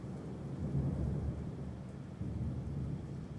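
Steady heavy rain with a low rolling rumble of thunder throughout, broad and continuous with a slight swell midway, no voices.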